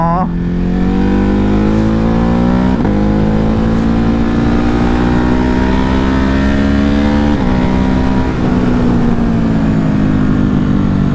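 A Ducati Hypermotard engine in sport mode revs hard and climbs steadily in pitch, with brief dips as it shifts, roaring loud and close throughout.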